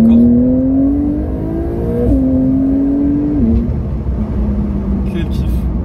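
A Porsche 992 Carrera 4S twin-turbo engine revs up to 5000 rpm, its loud rising tone climbing through stepped gear changes and then settling into a steady drone, with someone talking over it.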